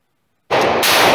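A custom Ruger 96/44 bullpup, a belt-fed .44 lever-action rifle, fires a sudden loud shot after silence, then a second blast rolls straight into it and rings on as a sustained roar.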